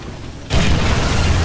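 A tank shell strikes in the Ground Forces war video game, landing as a single sudden, loud blast that turns into a sustained, dense rumble of noise with no speech over it.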